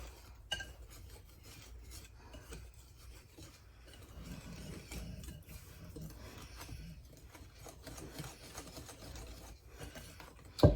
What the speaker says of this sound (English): just mix it really good. All you need is a little whisk